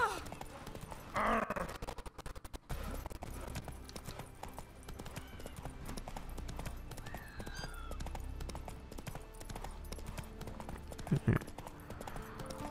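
Roach the horse in The Witcher 3, a rhythmic clip-clop of hooves with a brief whinny, moderately near over game ambience, with someone talking over it.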